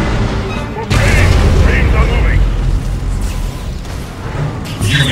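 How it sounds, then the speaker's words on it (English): A nuclear weapon explodes in a video game with a loud, sustained rumbling boom that fills the space and swells again near the end. A game voice is heard over it. "Nuclear weapon launched."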